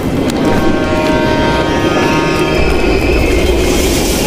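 A train rumbling past in the Call of Duty Cold War video game at an abandoned East German station, loud and close, with a dense low roar and faint metallic wheel whines running throughout.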